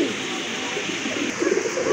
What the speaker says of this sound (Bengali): এখানে কিন্তু এক জোড়া রেড চেকার কবুতর আছে